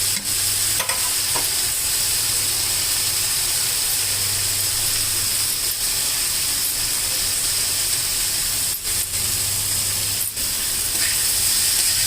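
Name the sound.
vegetables frying in pan for oats moong dal khichdi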